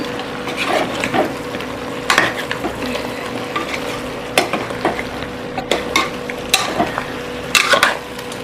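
Country chicken curry stirred with masala in a frying pan: a low sizzle underneath, with repeated scraping and clinks of a spoon against the pan at an uneven rhythm.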